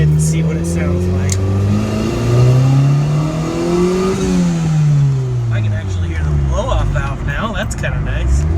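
Car engine fitted with a freshly welded turbo downpipe, revved repeatedly: loud, close, steady revs climb to a peak around the middle and then fall back, with people talking over the engine noise.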